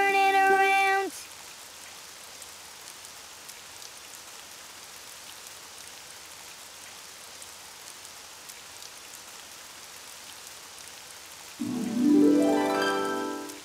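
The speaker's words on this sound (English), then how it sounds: "It's raining outside." Rain falling outside, a steady soft patter heard alone, framed by brief musical tones from a children's cartoon at the start and end.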